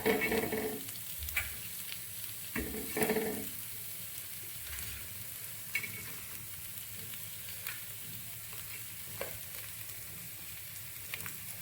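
Village crabs frying on a tawa griddle in a Konkan home kitchen give a faint, steady sizzle, broken by a few soft clinks and scraping stirs.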